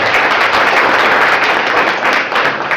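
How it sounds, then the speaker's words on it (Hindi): Loud, dense applause from a crowd at a leadership development program in Hiranpur, Jharkhand, continuous close clapping filling the whole moment. "जोरदार तालियां होनी चाहिए।"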